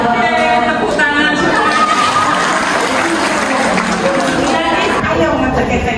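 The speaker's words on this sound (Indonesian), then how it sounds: "Tepuk tangan." Clapping from participants at a workshop on heritage and oral tradition, steady and fairly loud, mixed with crowd chatter and voices throughout.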